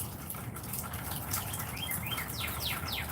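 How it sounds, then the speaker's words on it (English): Small birds chirp and tweet in a garden on a rainy day, bright rising and falling calls over a steady wash of rain, fairly near and unhurried. "Do you guys hear the birds?"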